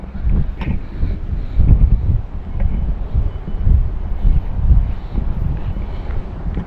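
Wind buffets a microphone on a fishing boat out at sea, a continuous low rumbling roar with gusty swells throughout, no voices over it.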